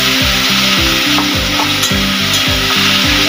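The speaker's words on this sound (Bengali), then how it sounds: "মশলাটা দিয়ে কষাতে থাকবো।" Chicken with turmeric, sugar and ground spice paste frying in a pan while being stirred: loud steady sizzle under a rhythmic, repeated scraping of the spatula against the pan, close and without talk.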